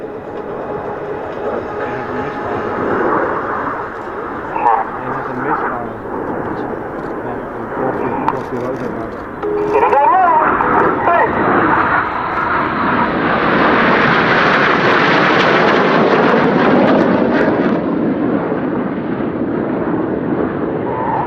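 Red Arrows jets fly the slalom at an airshow, a loud, sustained engine roar that swells and grows harsher halfway through as the aircraft pass, with a voice talking over the noise.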